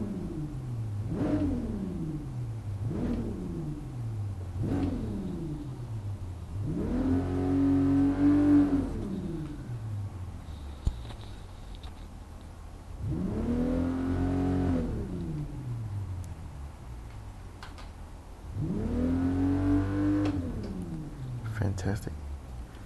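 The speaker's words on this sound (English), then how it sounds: "So let's hear how the engine sounds." A 1997 Toyota Supra RZ engine in the racing game GT Sport revs repeatedly: several quick blips, then three longer, deep, bassy sweeps up and back down, loud and steady, with a low idle between them.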